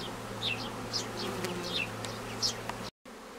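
Honeybees swarm at the entrance of a hive that wintered unheated, a close, continuous buzzing hum with individual bees zipping past now and then, cut by a brief dropout near the end.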